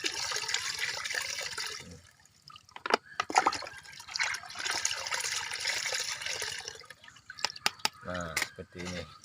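Water splashes and trickles into a herbicide mixture being stirred and refined, several pours with dripping and sloshing, fairly close, ending in gurgling bursts.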